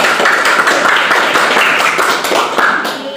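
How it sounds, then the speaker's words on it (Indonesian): A group of pregnant women and their partners clap together after a prenatal exercise class, with a dense, steady patter of many hands at close range. Faint voices sit underneath. "Ayo dong, tepuk tangan dulu dong"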